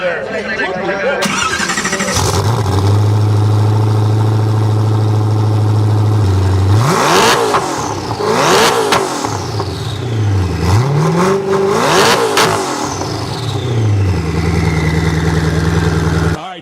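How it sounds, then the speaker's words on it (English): Koenigsegg Agera XS engine revving loudly and close, with a low steady idle broken by repeated sharp throttle blips that climb and fall in pitch, over a continuous roaring drone. "after I just revved my car at his request"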